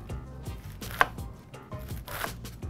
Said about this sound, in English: the more kale you could get in each cubic inch, the quicker you can chop it